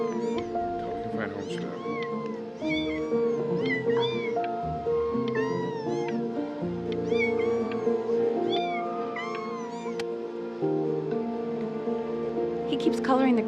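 Several cats meow repeatedly over a steady background of music and voices, with rising and falling calls scattered throughout.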